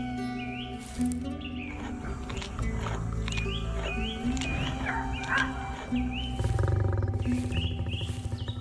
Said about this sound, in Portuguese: Na savana queimada pelo sol, o rugido profundo ecoa por todo o espaço